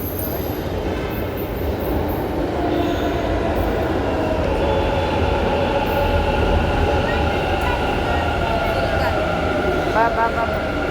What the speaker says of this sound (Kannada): ಬಂತು ಮೆಟ್ರೋ ಬಂತು